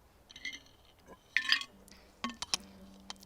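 A glass of water clinks outdoors in the woods, with a few light, bright taps and chinks scattered unevenly among soft handling noises, quiet and close.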